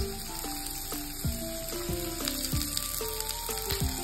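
Sliced onions frying in a pan for a Bengali pumpkin curry sizzle steadily and up close, with a bright hiss running under soft background music and no talk.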